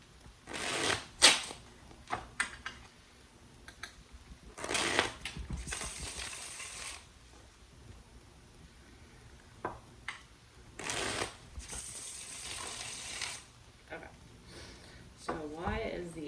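Tarot cards are shuffled in several short riffling bursts, separated by pauses, with quiet talking in between.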